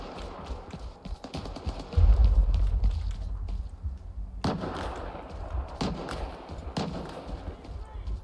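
Gunfire from bandits in Stalker 2: Heart of Chornobyl, a few scattered distant shots and bangs among low rumbling ambience, with occasional sharper reports spread across the stretch.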